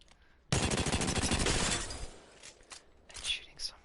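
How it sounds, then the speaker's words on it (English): RE45 automatic pistol firing in the video game Apex Legends: a loud, rapid burst of shots lasting about a second and a half, then a few quieter mechanical clicks and game sounds. "RE45 is a automatic pistol."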